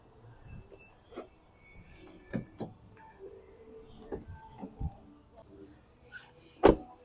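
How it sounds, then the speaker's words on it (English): The rear door of a 2022 Dodge Durango R/T is opened with a few soft clicks and thumps, then a sharp latch clunk near the end, with faint movement in between. "Gotta always open the front door to unlock the back ones."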